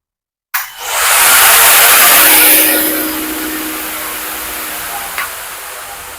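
A battery-powered electric brush cutter made in Kerala switches on after a moment of silence and spins up to a loud, high whirring whine, which holds and then slowly fades as the motor winds down, close by.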